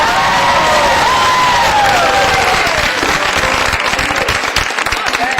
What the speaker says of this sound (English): Give these guys a round of applause